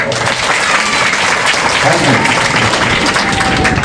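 Loud, sustained clapping from a group of children in a classroom-style gathering, a dense continuous patter of hands with some crowd noise mixed in.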